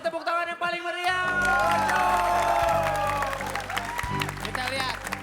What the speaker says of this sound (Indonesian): Kalau lucu, kasih tepuk tangan yang paling meriah